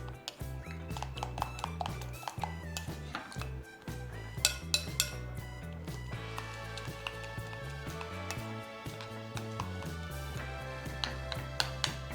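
Bread batter of egg, maida and milk is whisked in a bowl, making repeated close clinks and taps of a utensil against the bowl with a light rhythmic scraping, over faint music.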